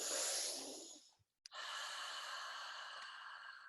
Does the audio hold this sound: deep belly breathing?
yes